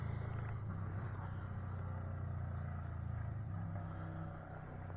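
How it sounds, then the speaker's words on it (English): Distant traffic rumble of loud trucks, cars and motorbikes passing at night in the woods, a steady low drone with no single clear pass-by. "There's a lot of noise pollution tonight. A lot of loud trucks or loud cars,"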